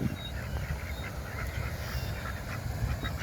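Ducks on a park pond give faint, distant quacks and honks over a steady wash of outdoor background noise.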